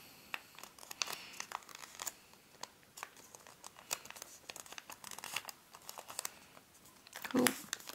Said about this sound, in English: we're just going to fold it slightly above the crease we just made